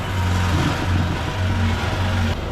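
A generator runs steadily at a restaurant during a power outage on a stormy, rainy day, a constant low droning hum with a faint rumbling texture, close and continuous throughout with no talk.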